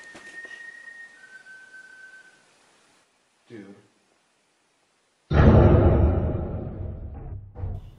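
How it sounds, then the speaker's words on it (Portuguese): A thin, eerie whistle inside a mine: a faint, sustained tone for about two seconds, then quiet, a brief rustle, and a loud burst of noisy rushing sound near the end. "Did you hear a whistle, Olivia?"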